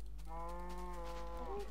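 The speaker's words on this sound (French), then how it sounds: "On entend donc des vaches derrière hein, qui se moquent de moi." A cow in a video game lets out one long, drawn-out moo, fairly quiet and heard on its own without talk.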